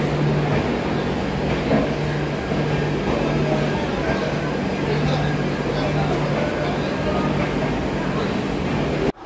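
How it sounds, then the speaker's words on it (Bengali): An idling train standing at a station platform gives a steady, loud engine drone with a constant low hum throughout, under a busy wash of platform noise. No clear speech is heard. "তো আমাদের ট্রেন এসে গেছে, দেখতেই পাচ্ছ"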